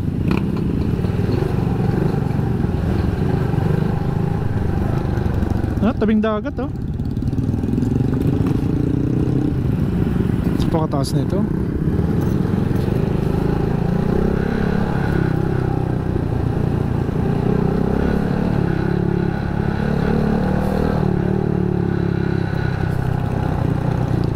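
Several motorcycle engines, machines that a village mechanic services, run and idle close by with a continuous rough rumble and a couple of revving surges, while someone talks briefly over them.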